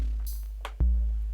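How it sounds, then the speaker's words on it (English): A Roland TR-8S drum machine plays a brief pattern: a hissy hi-hat, a snappy hit, then a deep booming kick that rings on. "so that's the sound of the TR-8S"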